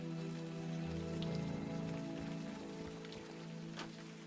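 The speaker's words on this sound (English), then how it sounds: "Or you can stand here in the rain all night." Rain pours steadily at night in the video game Unavowed, a continuous patter on surfaces layered over a soft tonal ambient hum, with no speech.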